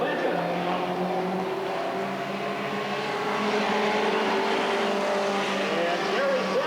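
Mini stock Ford Pinto race cars roar around an oval track at Redwood Acres Raceway, a dense continuous engine drone from several cars at once, loud and sustained.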